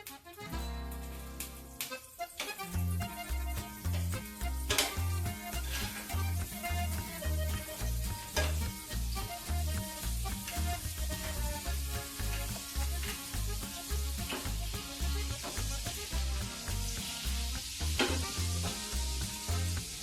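Butter sizzles steadily in a hot pan while tandoori chicken is being cooked, the sizzle sitting under loud, rhythmic background music with a regular beat throughout.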